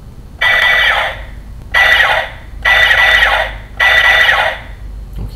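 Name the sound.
Kyoryuger DX Plezu-oh toy spaceship sound effect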